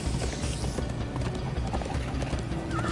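Horses gallop in the Minecraft Story Mode video game, a rapid, continuous clatter of hooves with a faint whinny, loud and busy throughout a short chase scene.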